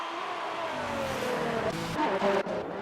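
Race cars in a racing video game at a China track, engines droning and shifting pitch as cars pass, with a falling engine tone and brief bursts of revving, under a continuous mechanical roar.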